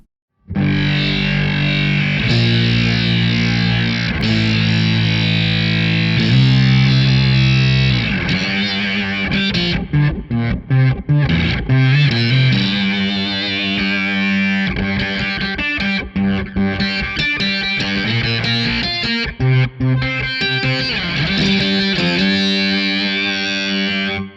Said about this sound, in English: Here's just an idea of what that Foldback distortion sounds like and how it reacts with your guitar's input signal.